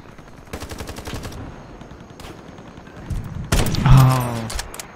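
Gunfire in the shooter game Ironsight, a rapid automatic burst followed by scattered single shots and a louder final crack, with someone talking over the end.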